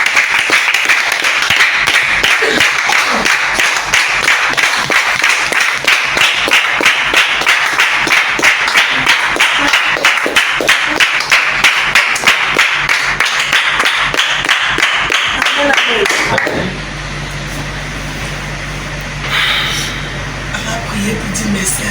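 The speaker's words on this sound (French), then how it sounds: "acclamer le Seigneur Jésus" A church congregation at a celebration closing a month of evangelism claps in fast, dense rhythmic applause for about sixteen seconds, loud and close, before it stops abruptly and leaves a low hum with faint voices.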